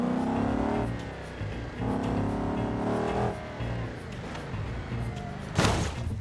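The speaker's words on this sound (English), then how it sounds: "it's time for the crash test" A Camaro is driven into a crash test in BeamNG, with a droning, revving engine that rises and falls, then a sharp slamming impact near the end.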